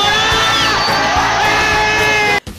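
A loud crowd cheers, whoops and yells in a dense, continuous roar for a couple, with whistle-like tones riding on top, then cuts off abruptly near the end.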